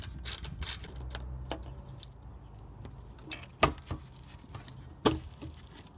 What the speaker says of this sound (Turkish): sabitleme civatasını 10 mm lokma ile söküp plastik muhafazayı aşağıya doğru esnetiyorum